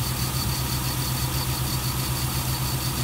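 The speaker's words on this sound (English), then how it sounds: "We're running on a little high RPM now." A car engine runs at raised revs, a steady, close and continuous drone with a faint high whine that holds without a break.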